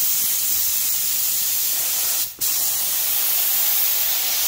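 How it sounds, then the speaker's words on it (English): A spray gun applying 183 contact adhesive to wood in a spray booth, a loud, steady, close hiss that cuts out briefly for a split second before resuming. "so we got the 183 in the gun here"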